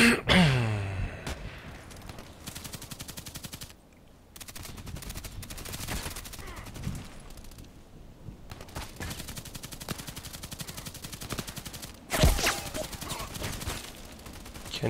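Sniper rifle fire in a shooting video game: repeated sharp gunshot cracks with bursts of rapid fire, spread across the stretch at moderate loudness with a strong blast near the end.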